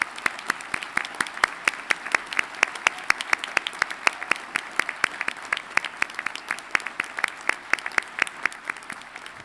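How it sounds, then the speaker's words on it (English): Audience applause at a veterinary medicine college commencement, honoring active duty and veteran students, with sharp, fairly sparse individual claps forming a steady round. "please join me in a round of applause to these active duty and veterans that have served or are serving"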